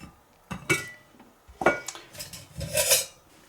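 A metal wood gas stove is set into a 1 litre metal billy can, making three bursts of clattering, scraping metal-on-metal knocks, close and fairly sharp in a quiet setting.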